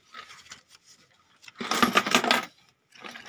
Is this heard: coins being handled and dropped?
yes